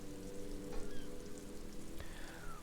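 Steady rain falling over water in Disco Elysium, a soft, even hiss of drops at low level throughout with a faint ambient drone beneath and no voices.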